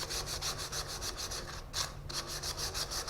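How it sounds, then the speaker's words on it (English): Steady, rhythmic rasping of sandpaper by hand with the grain against a spinning multi-axis wooden goblet, over the low, constant hum of a turning lathe. "So back to hand sanding again with the grain"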